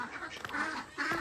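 Farm ducks quack in short nasal bursts, close and fairly loud, a few calls overlapping in a quick irregular rhythm with no talking.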